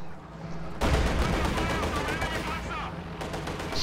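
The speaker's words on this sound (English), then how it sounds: "Command tank immediately hits a mine." Tank hitting a mine and exploding in a war video game, a sudden heavy boom followed by a dense wash of rumbling blasts and crackling fire, with a second burst near the end.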